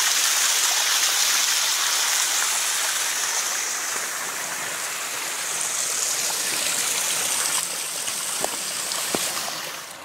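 Water pours steadily out of a culvert below a railway trestle above Cameron Lake, a continuous hissing rush close by with no voices.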